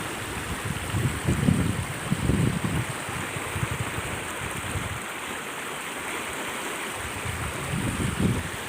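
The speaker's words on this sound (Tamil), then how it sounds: "இப்படி தண்ணி போகுது பாருங்கள் கரையோடு ஒட்டி போகுது" A river runs along its bank in steady, continuous broadband rushing, with low rumbling swells that rise and fall and no voices.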